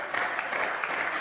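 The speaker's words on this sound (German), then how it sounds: "bevor Sie jetzt alle anfangen zu klatschen" Applause in a German state parliament during a budget speech: a short burst of steady clapping from many hands, moderately loud and alone with no speech over it.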